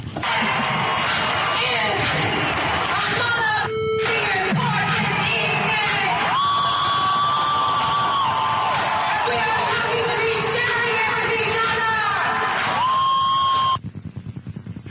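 Loud, continuous cheering and shouting from a concert crowd, captured in an amateur recording, with whoops and held vocal tones over the roar before it cuts off abruptly near the end.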